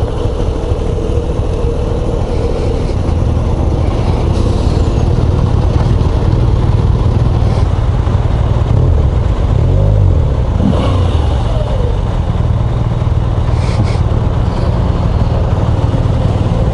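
A 2022 Moto Guzzi V85 TT engine runs loud and close, a continuous mid-pitched drone that rises as the throttle opens, with wind rush over it.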